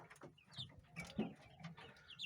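Young hens and roosters in a home poultry flock, some sneezing and wheezing from illness, give soft, faint clucks and short calls, with low chatter spread across a quiet yard.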